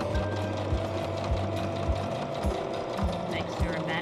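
A sewing machine backstitches a dog bandanna with steady, rapid mechanical stitching and a rhythmic thump roughly twice a second, running continuously and close up.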